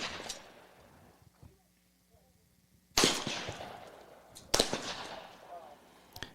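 Shotgun reports ring out across an outdoor trap shooting range, two sharp, loud blasts several seconds apart, each trailing off into open-air echo, with quiet background between shots.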